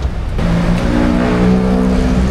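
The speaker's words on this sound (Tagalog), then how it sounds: "Ang traffic ko sobra." Heavy street traffic in the Philippines rumbles close by. A loud car engine drones and shifts pitch as vehicles crawl and idle in a dense, continuous roar.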